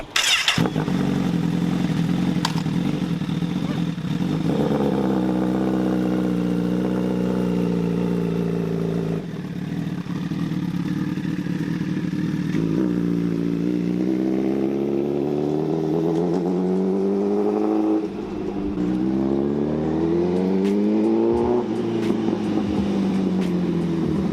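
Honda CBR1000RR superbike engine pulling hard while riding, loud and close, revving up through repeated rising sweeps with brief dips between gear changes, no talk over it.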